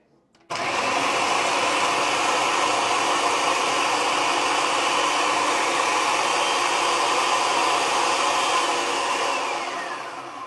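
A food processor chops mint into a puree, its motor starting abruptly and running as a loud, steady whir for about ten seconds before easing slightly at the end, with no talking over it.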